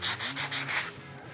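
An electric guitar's yew fretboard edges are rubbed clean with five quick, close scrubbing strokes in an even rhythm, followed by a short quiet tail.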